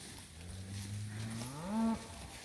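A cow on a farm during a cattle mob move bawls for her calf, one long rising moo that swells and ends loudly, with a steady outdoor murmur behind it.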